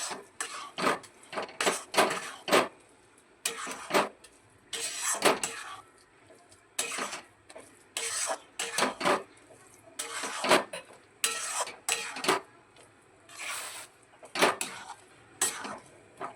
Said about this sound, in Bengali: আমটা সুজির সঙ্গে খুব ভালোভাবে মিশিয়ে নেওয়া হয়ে গেছে।